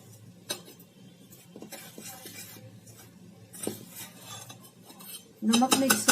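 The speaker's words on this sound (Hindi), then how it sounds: "इसको पहले सबसे मैं नमक इसके अंदर मिक्स कर देती हूँ।" A spoon scrapes and clinks against a bowl while salt is stirred into semolina batter for spinach and carrot dhokla, soft, close and intermittent, with a louder burst of stirring at the end.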